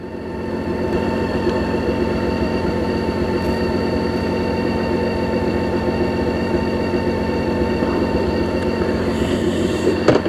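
A BMW K1600 GA motorcycle setting off near a park produces a loud, steady engine and road roar that stays constant and close from start to finish.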